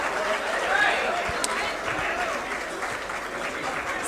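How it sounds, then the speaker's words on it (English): An audience at a political gathering claps steadily to welcome guests, a dense even patter of applause with faint crowd noise throughout. "Please welcome all our guests with a big round of applause."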